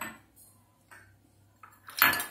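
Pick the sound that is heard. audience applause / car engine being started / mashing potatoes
mashing potatoes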